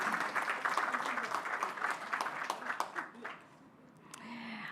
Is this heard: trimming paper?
no